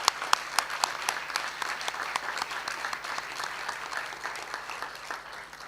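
Graduation audience applauds award winners with a steady wash of clapping, a few sharp individual claps standing out near the start before the applause thins slightly toward the end.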